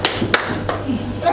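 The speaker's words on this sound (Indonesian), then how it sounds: "silakan tepuk tangan dulu boleh" A few sharp claps ring out at a discussion session, three or four distinct hits spaced about a third of a second apart over a low background hum.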